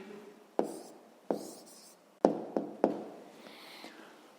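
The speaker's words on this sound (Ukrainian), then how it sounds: "записуємо відповідь" Pen or pencil writing an answer by hand on paper during a sixth-grade maths exercise, heard as soft scratching strokes broken by several sharp taps, close and fairly quiet, with no talk.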